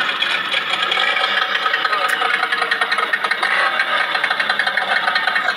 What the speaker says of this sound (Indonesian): Oke, sekarang kita akan tes mesinnya, lalu kita dengar sama-sama apakah bunyi kasar.